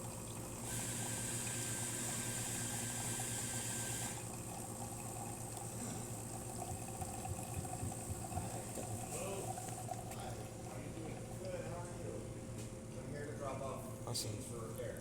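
A DeLonghi Magnifica S espresso machine pulling a shot, its pump humming steadily throughout with a brief higher whine early on and gurgling liquid, under a person talking.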